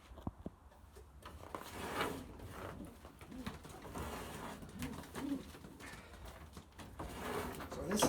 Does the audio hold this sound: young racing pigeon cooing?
yes